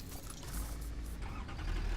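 Tractor engine starting up in the factory-building video game Satisfactory, a low rumbling drone that swells steadily louder over two seconds and settles into a continuous running hum.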